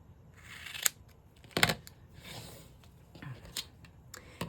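Scissors cut lace and fabric for a craft project, making a few quiet, separate snips and crisp cuts with soft rustling in between, close by in a quiet room.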